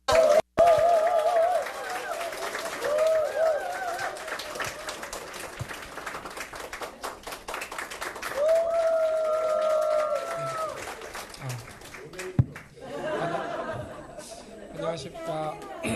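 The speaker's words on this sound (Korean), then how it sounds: "하정우 수석님을 큰 박수로 모시겠습니다." Audience applause at a talk on AI in Jeonju, with scattered clapping and crowd chatter under a tonal voice and music-like sounds, fading as the welcomed speaker is about to start.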